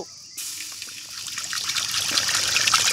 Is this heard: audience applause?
no